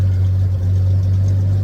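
Engine of a 1941 Dodge WC-6 truck idling close by, a steady low rumble with an even, unbroken drone throughout and no talk.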